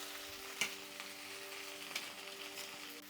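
Okra pachadi sizzles steadily in a pan with half a chopped tomato added, a soft continuous frying hiss broken by a few faint stirring clicks, with no voices.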